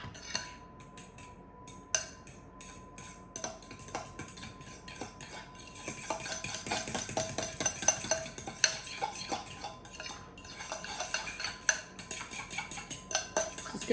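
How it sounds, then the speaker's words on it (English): A spoon clinks and scrapes against a bowl while mixing chicken salad, with irregular metallic taps that build into busier stirring, close and moderately loud. "Just gonna mix this together."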